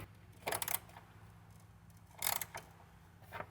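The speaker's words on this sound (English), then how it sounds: "and then we'll tighten it up with the ratchet." Ratchet wrench tightening a hose clamp on a Bobcat zero-turn mower's hydraulic reservoir, three short quiet bursts of rapid clicking separated by pauses.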